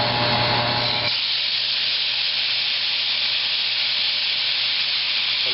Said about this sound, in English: once we throw this cold steak into that hot oil, it's going to steam up real quick